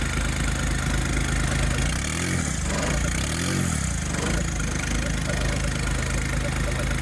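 A John Deere 1025R tractor's warmed-up turbo diesel engine idles steadily with a constant low throbbing hum, close and unbroken, with a couple of brief low swells partway through.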